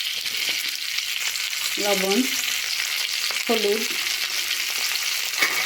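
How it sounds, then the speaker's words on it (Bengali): Pointed gourd (potol) frying in a wok of oil, salted and turmeric-dusted, gives a steady, close, even sizzle throughout, with a voice speaking briefly twice over it. "ওই তেলে পটলগুলো ভেজে নেব।"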